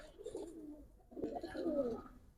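Pigeons coo softly nearby in two low, rolling phrases separated by a brief pause, faint and with no talking.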